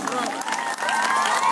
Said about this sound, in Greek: δώστε ένα δυνατό χειροκρότημα σε αυτή την μπάντα που θα παίξει τα πάντα